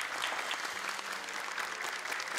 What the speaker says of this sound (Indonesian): Tepuk tangan untuk Akil.